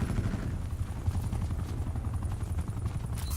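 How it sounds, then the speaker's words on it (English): An enemy attack helicopter in Call of Duty: Black Ops 4 roars overhead, its dense low rotor thumping steady and loud, with rattling gunfire-like bursts mixed into the churn. "Enemy attack chopper above."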